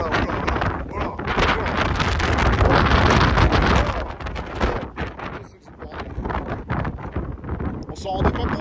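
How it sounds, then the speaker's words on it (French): Wind buffets an open-top Honda S2000 convertible on a USA road trip, a loud, steady roaring rush with gusty swells, while people talk over it. "Il y a un peu de vent, non?"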